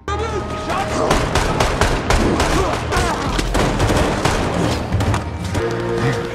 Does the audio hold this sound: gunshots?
yes